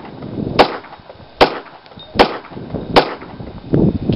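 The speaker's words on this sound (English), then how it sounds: "5 shots in 10 seconds" Four sharp pistol shots ring out at steady intervals, close and loud, during a Texas concealed handgun license qualification at an outdoor range.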